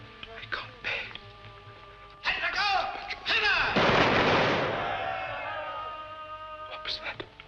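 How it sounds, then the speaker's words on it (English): A firing-squad volley of rifle shots rings out in the 1953 film Beat the Devil, a loud, echoing burst of gunfire with voices talking before and after it. "Firing squad. It's execution day."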